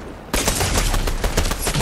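Loud, rapid automatic gunfire erupts in Fortnite after a brief lull, a dense fusillade of close shots rattling continuously to the end.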